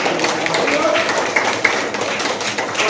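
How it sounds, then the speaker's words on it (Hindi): A class of children claps together, a dense patter of many small hands that runs steadily and fairly close, with voices mixed in. "रुक जाओ, बहुत सारी तालियां बजाओ।"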